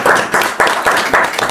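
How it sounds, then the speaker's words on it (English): A seated audience at a panel discussion claps in a brief round of applause, a dense patter of hands that comes in close, loud waves. "A round of applause for"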